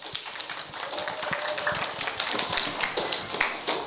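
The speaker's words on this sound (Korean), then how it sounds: "우리 전도사님 나오실 때 큰 박수로 환영해 주시면 좋겠습니다" Children in a church children's service give a dense, lively round of applause, full of quick overlapping claps at steady loudness throughout.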